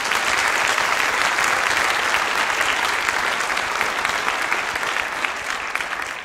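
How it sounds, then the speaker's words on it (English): An audience at a National Honor Society induction ceremony applauds steadily, a dense, sustained clapping from a full room that fades slightly at the end. "So please give them a round of applause."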